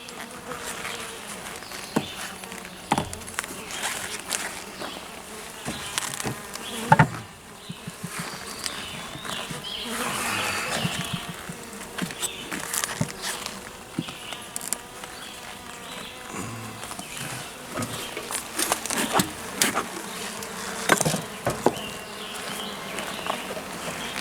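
Honeybees in a Kenyan top bar hive, a steady dense buzzing with scattered louder swells and close passes, accompanied by bumps and handling noises throughout.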